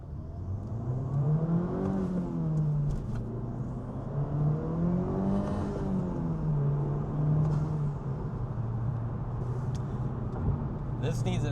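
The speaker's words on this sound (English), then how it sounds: "I can hear the turbo blow off" Honda Civic Type R revving, its engine note rising and falling in two or three strong sweeps, with a brief turbo blow-off hiss near the end; a voice talks over it.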